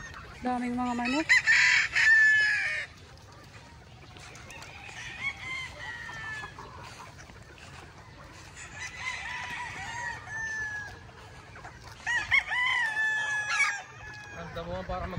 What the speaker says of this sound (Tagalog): Daming mga manok.